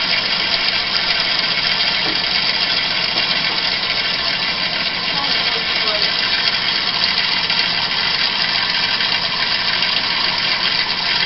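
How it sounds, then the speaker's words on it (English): A working Newman motor spins steadily, giving a constant close mechanical whir and hum with no change in pace over roughly eleven seconds, without talk. "it's a working Newman motor"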